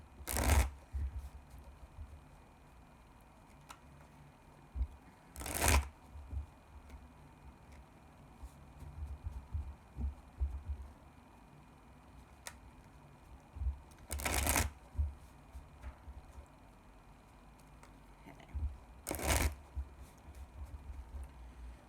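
Four short bursts of tarot cards being shuffled, riffled quickly and spaced several seconds apart, with quiet handling noises between them.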